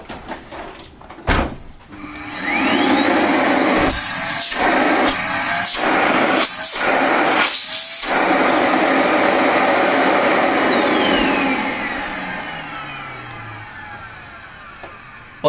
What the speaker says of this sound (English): The other alternative is simply to turn it on without that filter there.